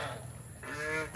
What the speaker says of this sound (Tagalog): tapos isang gansa, ay 2 gansa yan